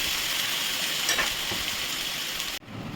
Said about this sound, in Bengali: পেঁয়াজ আদা রসুন বাটাটা ওটাই আমি দিচ্ছি একটু ভালো করে কষিয়ে নেবো আমি